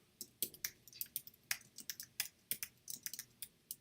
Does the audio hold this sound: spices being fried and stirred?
no